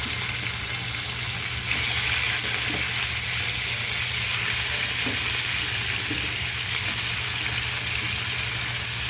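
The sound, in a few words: chicken sautéing with ginger in hot oil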